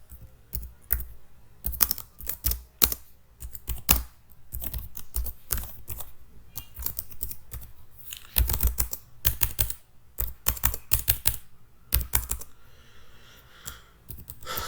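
Rapid, close clatter of keys on a computer keyboard while writing a makefile for a Linux USB device driver, irregular bursts of keystrokes with short pauses and no talking.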